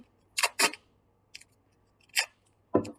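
Duct tape is split lengthwise by hand for a craft project, giving a few short, quiet crackling rips with silent gaps between them.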